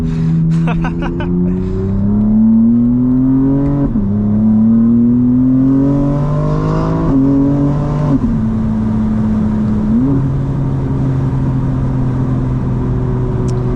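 A modded 2025 BMW M4 CS engine revs hard while driving, pitch climbing through repeated gear pulls with brief dips at each shift, loud and close throughout.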